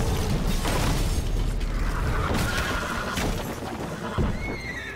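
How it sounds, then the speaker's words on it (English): A horse in The Witcher 3: Wild Hunt, Blood and Wine expansion, whinnies loudly over a dense game soundscape of hoofbeats, clanking mechanisms and rumbling impacts, with a shrill neigh rising near the end. "The horse is no more"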